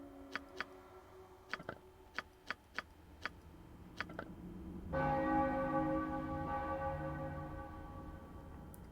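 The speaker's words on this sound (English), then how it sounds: "let the bell ring out for a final time" A bell in Baldur's Gate II rings during a temple ceremony, struck in a series of sharp, evenly spaced strikes, then one loud, full ring that hangs and slowly fades, with no talk.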